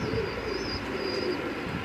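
A four-year-old Kalpoti pigeon coos softly at close range, a low gentle throaty murmur, with a faint high whistle-like tone and quiet background noise.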